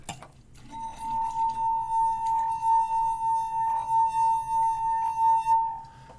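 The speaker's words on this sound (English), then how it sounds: "depending on how full it is, it changes the natural frequency of the glass" A single clear ringing tone from a struck glass after its liquid is emptied, shifting its pitch, sustained for several seconds with a gentle wavering pulse, close and fairly loud.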